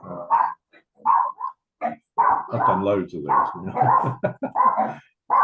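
Several dogs bark and yip in the background of an indoor online session while someone talks over them.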